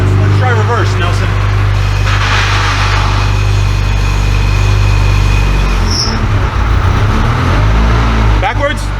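A turbocharged AWD Honda Civic EM2 with a Quaife sequential transmission idles in reverse, its steady low engine drone constant throughout, while people talk over it.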